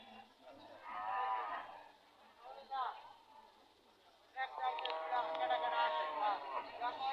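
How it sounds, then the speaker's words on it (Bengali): Cattle low repeatedly at a cattle market, a long moo followed by a short one and then a louder, drawn-out bellow, with faint crowd murmur in the background. "এই গরুগুলো"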